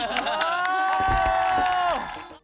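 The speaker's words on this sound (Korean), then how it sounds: "박수 박수" Fans at an OnlyOneOf event in Busan cheer and clap, with high shrieking voices held over a busy crowd roar, loud and sustained before fading.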